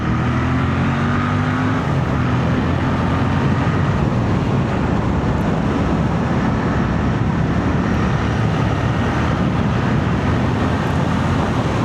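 A 2025 Royal Enfield Bear 650 motorcycle cruising at about 60 mph in fifth gear near 5,000 rpm, a steady engine drone and road rumble mixed with heavy wind rush, constant and loud throughout.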